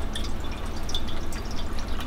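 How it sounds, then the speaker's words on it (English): Chicken broth poured into a cooking pot for chicken and dumplings, a steady close liquid gurgle with light dripping and splashing, continuous for a couple of seconds with no talking. "Just be careful when you pour this in because it will splash"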